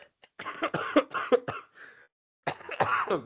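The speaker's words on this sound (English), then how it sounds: "now I'm losing my mind with the coughing too" Several harsh coughs close to the mic, coming in two rough bursts separated by a short quiet pause.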